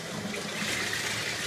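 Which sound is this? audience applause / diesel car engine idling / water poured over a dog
water poured over a dog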